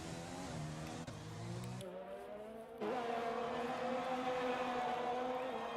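Race car engines in an esports racing game at the Australia Grand Prix run as a steady, sustained drone of layered engine tones throughout, loud and continuous with a brief shift midway, no talking.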